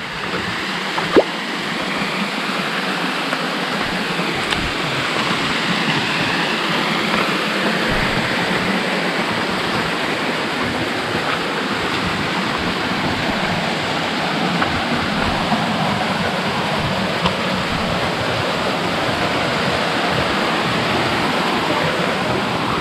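A waterfall in the hills of Sudipen, La Union, roars as a steady, dense wash of falling water that fills the whole scene at constant loudness, with no voices over it.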